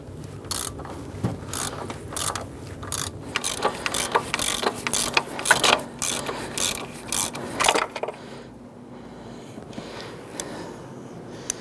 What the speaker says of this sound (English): we're going to use our power steering pulley tool here.